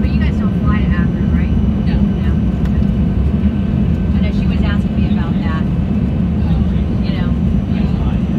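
Jet engine roar from a Dornier 328 jet landing at Cincinnati Lunken Airport, heard from inside the cabin as a steady loud rumble throughout, with people talking over it.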